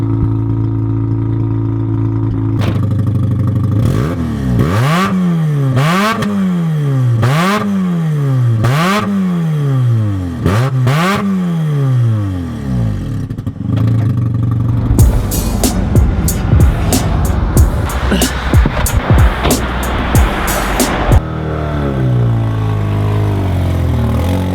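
A Mazda RX7 rotary engine with a repaired exhaust revs repeatedly, its pitch rising and falling in a regular series of swells, then settles into a rough, clattering idle and a lower steady drone.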